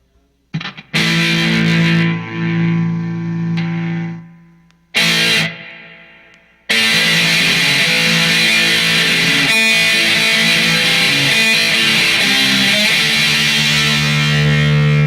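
A guitar turns harshly distorted and loud after an effects pedal is switched on by accident: brief sustained chords and abrupt stops, then a sudden, continuous wall of fuzzy, saturated tone.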